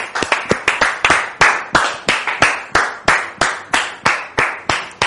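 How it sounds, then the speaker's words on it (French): Rhythmic clapping from an audience on a French-language talk show welcoming a guest, sharp distinct claps in a fairly regular beat, loud and close, like a small group clapping in time. "Sous vos applaudissements"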